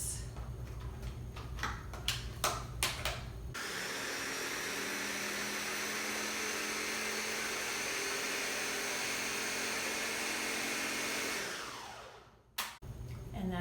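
A food processor whirs continuously as it blends homemade basil pesto with olive oil: a few clicks and knocks first, then a long steady motor drone that winds down and stops, followed by more clattering.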